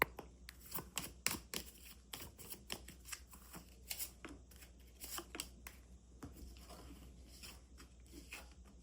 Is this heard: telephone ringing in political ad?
no